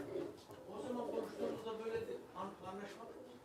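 Pigeons coo softly at a bird-selling stall, their low burbling calls mixed in with nearby voices talking over them.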